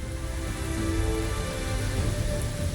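Steady rain falls in the fantasy role-playing game Pathfinder: Wrath of the Righteous, a continuous hiss of drops with a low rumbling bed, even and unbroken, with no voices.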